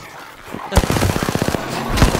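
Rapid automatic gunfire from a heavy-recoil weapon in Apex Legends: a loud, close burst of about a dozen quick shots in a steady rhythm, ending with a final heavy report.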